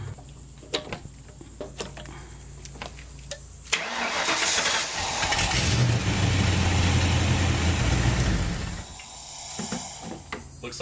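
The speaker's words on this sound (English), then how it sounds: "try starting the car to see if it still runs" An SN95 Ford Mustang, its smog pump wiring removed, cranks and fires up after scattered clicks and clunks, then runs loudly at a fast idle for several seconds before settling back to quieter ticking.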